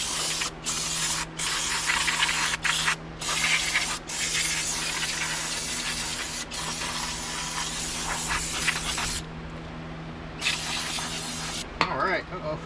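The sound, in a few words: brake cleaner being sprayed on grimy engine parts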